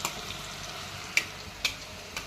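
Desi ghee heating in a kadai while chickpeas are tempered: a soft, steady frying hiss with a few faint, sharp ticks spaced about half a second apart.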